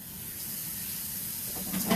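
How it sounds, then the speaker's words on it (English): A kitchen sink sprayer rinses beans in a strainer over the sink, giving a steady, soft hiss of spraying water with a brief louder splash near the end. "with the sprayer, I'm gonna rinse those out"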